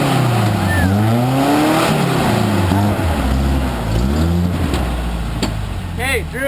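Off-road truck engine revving and labouring on a steep hill, a loud continuous growl with rising and falling pitch sweeps throughout, while people talk over it nearby.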